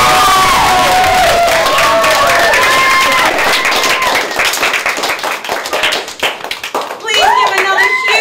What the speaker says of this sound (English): Please give another huge round of applause for our amazing band